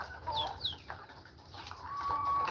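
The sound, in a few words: hen clucking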